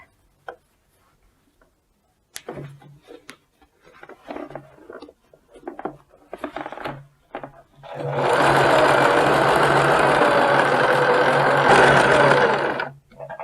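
Sewing machine stitching a 1 cm seam on a round-collar dress, beginning with a few short hand-turned clicks and taps, then a loud, steady, close run of rapid stitching lasting several seconds.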